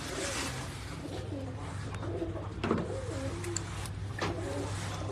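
Several pigeons on a Karachi rooftop coo in rolling, overlapping phrases close by, over a steady low background hum with a couple of brief clicks.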